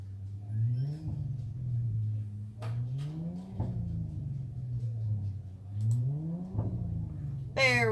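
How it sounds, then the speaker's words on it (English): Car engines rev repeatedly in rising and falling surges, a rumbling whine climbing in pitch then dropping, with brief clatters between revs. "if you hear cars revving in the background or banging sounds"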